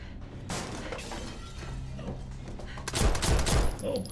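Dense bursts of gunfire in the Black Ops 6 campaign, sharp overlapping shots with shattering impacts that swell toward the end, loud and close, with a voice speaking underneath.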